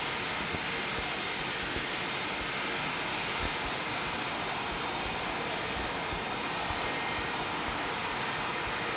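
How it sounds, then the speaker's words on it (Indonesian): A helicopter passing off to one side produces a steady, faint broadband engine drone. The sound holds an even level throughout, with no voices over it. "di kiri ada helikopter guys"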